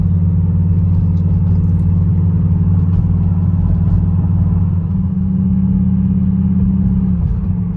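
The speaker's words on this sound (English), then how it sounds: "driving the car right now" A car with a GM LS4 engine that has noisy lifters drives steadily, its low engine drone and rumble continuous and fairly loud throughout, with a slight shift in tone near the end and no talking.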